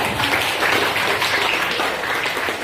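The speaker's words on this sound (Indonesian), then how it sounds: "Tepuk tangan untuk kalian." Schoolchildren in a classroom clap their hands together in a brief, dense burst of steady applause.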